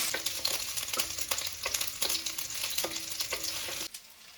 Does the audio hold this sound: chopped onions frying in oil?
yes